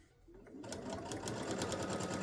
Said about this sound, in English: I'm just sewing a 1/4 inch seam